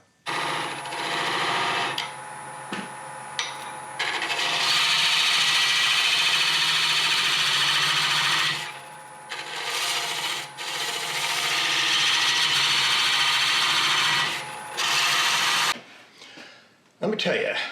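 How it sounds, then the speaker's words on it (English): Wooden bowl turning on a lathe as a tool parts it off and sandpaper smooths the bottom: a loud, steady broadband rasping scrape that pauses briefly a few times, then stops near the end. "last thing to do is part it off and do a little sanding on the bottom"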